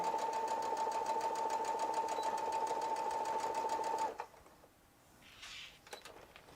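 A sewing machine stitches a seam on a zipper pouch with a steady, fast mechanical whir for about four seconds, then stops abruptly, leaving quiet rustling and a faint handling sound.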